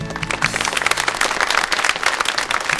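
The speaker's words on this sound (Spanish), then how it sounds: "merecidos aplausos para el que rompe el hielo" Dense audience applause at a live talent show, a continuous loud patter of many hands clapping with no speech over it.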